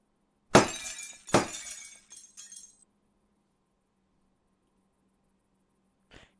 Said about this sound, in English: You smashed the blinking kitchen lights